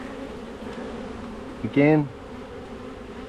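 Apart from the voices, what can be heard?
honeybees buzzing during Langstroth hive inspection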